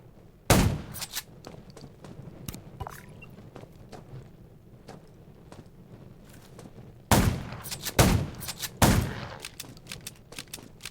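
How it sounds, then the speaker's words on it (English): Gunshots at a junkyard in the Undawn video game, scattered loud cracks over a steady low rumble, with a dense cluster of heavy blasts near the end. "Gunshots at the junkyard."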